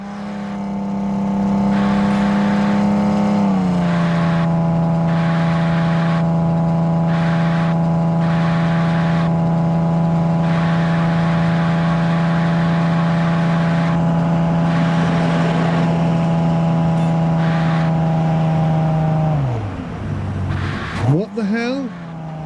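A car engine in the Underground Garage video game holds a steady loud tone with a rising whine, shifts pitch early, then drops away near the end amid brief scrapes.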